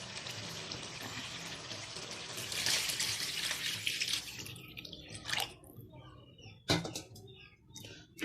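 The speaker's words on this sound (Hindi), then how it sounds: "अब इसमें पानी डाल देती हूँ ताकि फिर मैंने चावल डालने हैं।" Water poured into a cooking pot of fried potatoes before rice goes in, a steady splashing gush that fades into scattered drips and small splashes near at hand, with a few brief knocks.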